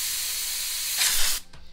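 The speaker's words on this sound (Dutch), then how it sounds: "Ik ga het op de tafel spuiten." A can of dust-removal spray hisses onto a tabletop in one steady, loud burst lasting over a second, then cuts off abruptly.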